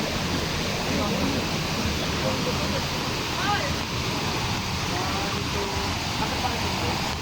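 Talay Falls waterfall fills the scene with a constant rushing wash of water, steady and fairly close, with faint voices present underneath.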